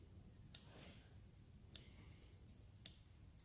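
Scissors snip peppercorn bonsai tree leaves in three quiet, separate sharp clicks spaced about a second apart.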